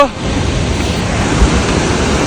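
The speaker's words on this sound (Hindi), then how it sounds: "क्या आवाज है पानी की।" Loud rushing river water in a mountain valley on the Valley of Flowers trek in Uttarakhand, a continuous close roar of fast-flowing water with a voice faintly beneath it.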